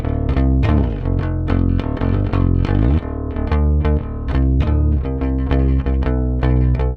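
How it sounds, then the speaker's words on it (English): A soloed Fender Mustang bass guitar, played with a pick, runs through a steady stream of punchy, loosely articulated notes for several seconds, loud and upfront with no voices. "I can just solo the bass right here, and this is like the new Mustang bass."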